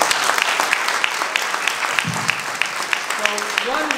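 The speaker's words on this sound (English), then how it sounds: "So one really loud round of applause for our guests right now" Audience applause at a New York Comic Con 2021 panel on comics and Hollywood, a steady crackling spread of claps that fills the room with a few sharper hand hits, while brief voices come through near the end.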